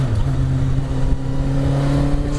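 Kit car fitted with a Yamaha R1 motorcycle engine, warming up to temperature, runs with a loud, steady high-pitched idle and rev drone held close and constant throughout.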